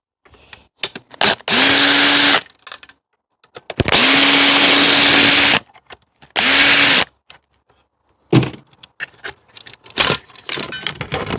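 A power drill backs screws out of an old motor in several loud, steady whirring bursts of a second or two each, separated by pauses filled with clicks and handling clatter.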